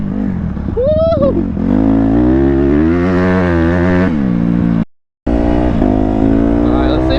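Dirt bike engine revving hard while riding through mud at a lot, a loud, sustained close-up drone with rising and falling pitch and a brief dropout near the end.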